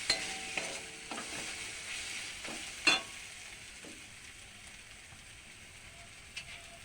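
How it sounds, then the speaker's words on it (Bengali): Curry with cumin powder sautés in a pan, a soft continuous sizzle broken by occasional scraping clicks of stirring, quiet and close, with no voices. "এবার আমি ভালো করে কষি"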